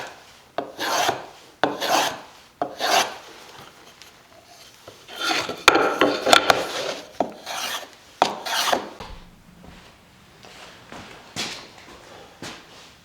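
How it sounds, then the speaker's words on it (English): Block plane shaving a slight chamfer onto the corners of wooden bed panels: a series of distinct rasping strokes, each a short scraping burst with pauses between, close and fairly loud, with no talk. "take a block plane to put a slight chamfer on each of the 4 corners on the sides of these panels"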